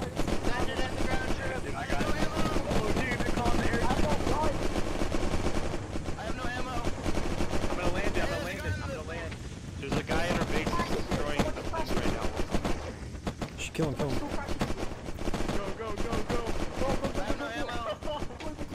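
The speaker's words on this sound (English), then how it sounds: "I'm shooting the people." Continuous gunfire rattles through a Battlefield-style helicopter battle video game, dense machine-gun bursts layered over rotor and wind noise for the whole stretch, with players talking over it.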